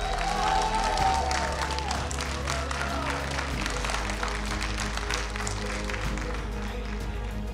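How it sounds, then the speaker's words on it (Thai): An audience at an inspirational stage event applauds itself, a dense, sustained wash of clapping from a crowd with steady low music underneath. "เสียงปรบมือให้กับตัวเองหน่อยค่ะ"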